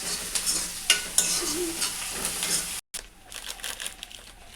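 Mutton and cumin stirred in a frying pan, a close hiss of sizzling oil with scraping and clattering stirs, a brief cut of silence midway, then quieter frying.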